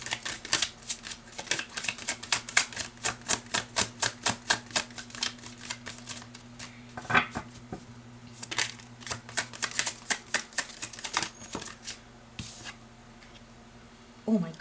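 Tarot cards being shuffled by hand before another card is drawn; quick rhythmic riffling flicks in close bursts, then sparser taps and slides, quiet and near with no talking.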